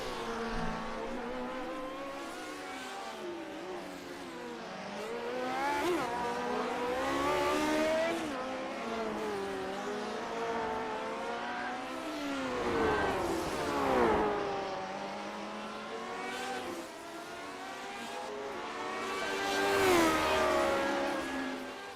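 Lotus 79 race cars howl around the Long Beach street circuit in a racing video game, engines rising and falling through gear changes in repeated passes that swell loud and fade, with no talking.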